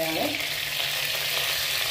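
Chicken sizzles in a pan of reused frying oil while cooking a Kerala-style chicken curry, giving a steady, close, loud hiss that carries on without a break and with no talking.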